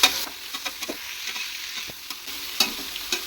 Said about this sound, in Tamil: எண்ணெயும் போட்டு கலக்கிறது